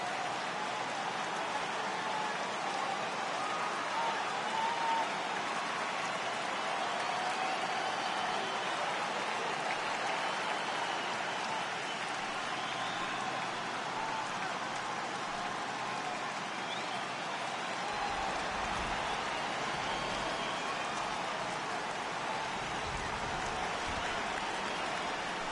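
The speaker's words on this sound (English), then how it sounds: "the rain starting to intensify here. It's coming down a little heavier now." Steady rain pours over a baseball stadium in MLB 18, a dense, even hiss that holds for the whole stretch and grows slightly heavier toward the end, with faint crowd murmur beneath.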